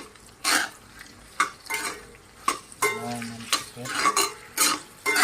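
Meat is stirred into browned onions in a pan for a local meat curry, with spoons scraping in sharp, irregular bursts over a steady sizzle. There is little or no talk.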